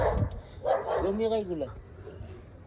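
A hungry dog gives a couple of short, close barks and yelps, tangled with someone talking over it in a noisy setting.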